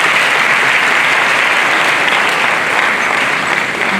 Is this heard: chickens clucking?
no